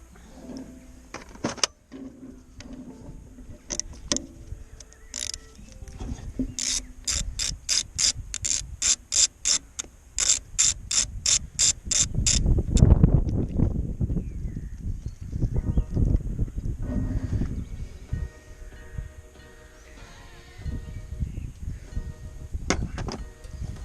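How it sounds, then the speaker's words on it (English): A 17 mm socket on a ratchet loosening the gearbox level plug on a mower, with rapid clicking ratchet bursts, then a heavier grinding turn, close and loud. "And this level plug needs a socket. 17, yeah."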